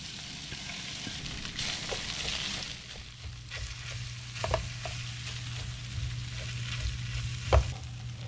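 Rice sizzles and fries in oil in a pan, a steady close crackle broken by scraping stirs and the occasional sharper clack of a utensil.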